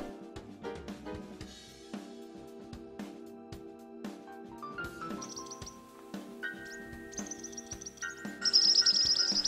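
Southern whiteface calls, small birds of the thornbill family living in thorny scrub of open woodland, sound as repeated high chirps and thin whistled notes, growing louder near the end over a dense bed of other tonal sounds.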